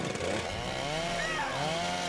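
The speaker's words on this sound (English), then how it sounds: "let's get this chainsaw revved up!" A chainsaw in the Heavy Rain video game revs loudly and continuously at close range, its engine pitch rising and falling throughout.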